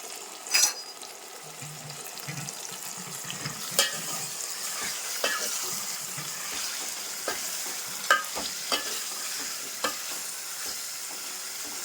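Small fish are turned in hot frying oil: a continuous close sizzle broken by several sharp scraping clinks of a utensil against the pan at irregular intervals. No one speaks.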